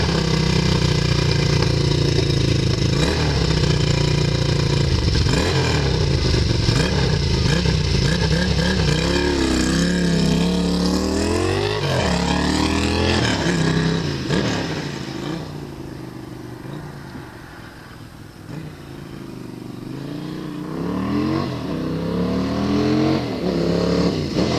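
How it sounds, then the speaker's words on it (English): A retro four-valve motorbike engine revs hard with a raspy, angry bark, rising and falling through several sharp blips before dropping toward idle and picking up again, loud and close throughout. "a fantastic little rasp from that fiery little angry engine"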